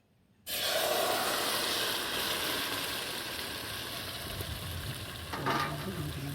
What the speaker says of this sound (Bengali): কড়াই গরম হয়ে গেছে, এবার ঢেলে দেবো।